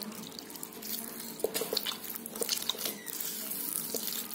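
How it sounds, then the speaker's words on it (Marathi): Water trickles and drips in small splashes into green pea pakoda batter, quiet and close, with a few sharper drops standing out. "आता याच्यामध्ये आहे ना फक्त आपल्याला थोडं पाणी टाकायचं आहे"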